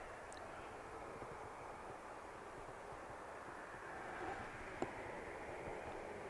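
A Boeing 787-8 Dreamliner arriving at Manchester Airport after a long flight gives a faint, distant, steady roar with a broad rushing hiss, heard alone in the open air.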